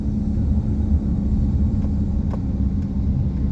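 Road traffic rumbles from inside a car stuck in slow traffic, with a steady, close, low drone of engine and tyres and no talking.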